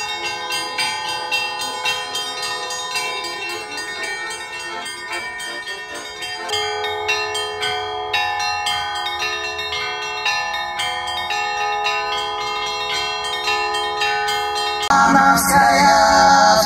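Church bells pealing to welcome arriving passengers at a Romanov sheep festival in Tutaev, a rich ringing of many overlapping tones that continues steadily, growing fuller and louder near the end.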